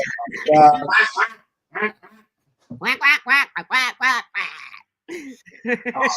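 Ducks quack in a run of loud, close, nasal bursts separated by short pauses, with some voice-like sounds mixed in.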